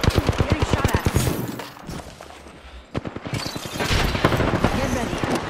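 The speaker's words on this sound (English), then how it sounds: "Getting shot at." Video game gunfire aimed at the player: rapid, dense bursts of shots crackle close by in quick succession, briefly easing before another heavy volley.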